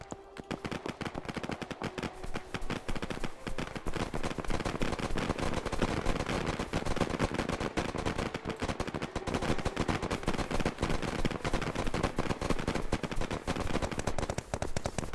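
Enemy gunfire in the tactical shooter Operation Harsh Doorstop crackles without pause, a dense, loud stream of rifle and machine-gun shots that fills the whole stretch with no talking.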